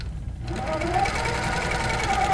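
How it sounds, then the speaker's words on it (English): A Handi Quilter longarm quilting machine stitches with a ruler over couched yarn, a steady rapid needle hum running throughout, loud and close, with someone talking over it. "so I position my ruler, and I'm going to stitch"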